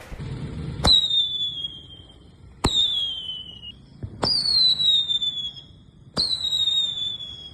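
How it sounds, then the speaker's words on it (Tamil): Whistling firework shots from a 25-shot box, four loud separate launches, each a sharp crack followed by a shrill descending whistle, spaced a second or two apart and close by, with no talking. "உங்களுக்கு விசு விசில் விசில் அடிச்சுக்கிட்டே போகும் இதான் வந்து விசிலிங் சாட்டு"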